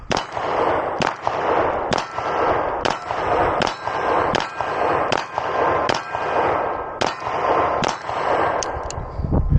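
Ten shots fired from a Beretta 92FS Compact pistol held with a loose, limp-wristed grip, each a loud, sharp report with a ringing tail, spaced fairly evenly about a second apart.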